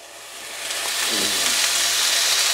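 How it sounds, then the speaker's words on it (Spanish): Steak and lobster hitting a hot frying pan, the hissing sizzle swelling from quiet to a loud, steady crackle. "vamos a ponerlos en el sartén"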